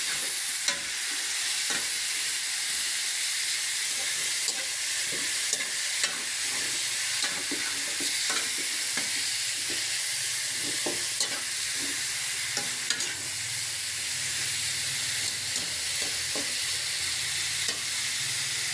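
Pork Bicol Express being stirred in a frying pan, with a steady loud sizzle and repeated scraping utensil strokes against the pan throughout, no voices.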